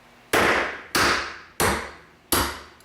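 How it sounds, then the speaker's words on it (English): A 1 pound brass hammer strikes the head of a disc cutter punch resting on a urethane pad, four sharp, loud metallic blows at an even pace, each ringing briefly before dying away. "I want to strike dead on the head of this punch here."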